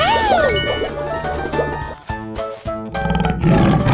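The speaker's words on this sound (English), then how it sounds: "Tiger." A cartoon tiger roars loudly in a 3D animal slide video game, a long harsh roar followed by jingling game chimes and bright musical effects.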